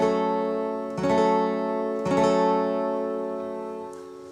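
A guitar chord from a song strummed three times, each strum ringing out and sustaining, close and clear with no talking.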